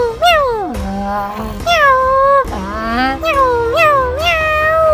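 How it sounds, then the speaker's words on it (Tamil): A house cat suddenly starts crying out while staring up at the roof: a run of drawn-out, wavering meows, loud and close, with a few sliding up and down in pitch. "அந்த வீட்டுல இருக்கிற பூனை திடீர்னு கூரை மேல பார்த்து கத்த ஆரம்பிச்சிருச்சு"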